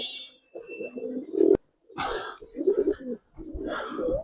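Giribaz pigeons coo in a close, clear series of soft throaty phrases separated by short pauses, with one sharp click midway and no talking.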